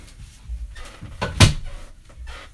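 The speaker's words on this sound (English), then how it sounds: "Let me shut this door, guys." A door is shut indoors with a single sharp, close thump, with softer handling sounds before and after it.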